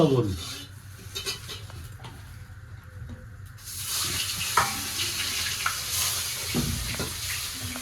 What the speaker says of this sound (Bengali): মাছ ভেজে দিচ্ছি